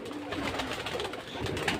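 Racer pigeons and their young coo at a busy pigeon farm in Bangladesh, a faint, constant layered murmur from many birds close by without talk.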